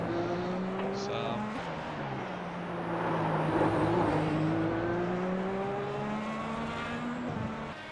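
A race car in the iRacing simulator drones steadily, engine tones rising and falling through gear changes, fairly loud throughout with no voices.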